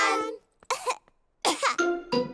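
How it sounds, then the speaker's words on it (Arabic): Cartoon pig character coughing, a contagious cough in a children's animated show: several harsh, close cough bursts in quick groups separated by short pauses, loud and clear. "سعال بيدرو معد حقاً"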